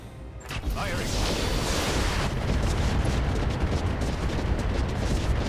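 Heavy mech weaponry fires and explodes in RogueTech, a BattleTech-style strategy game, with a Warlord mech attacking a Calliope: a loud, sustained roar of rapid impacts and blasts rumbling continuously after an opening burst.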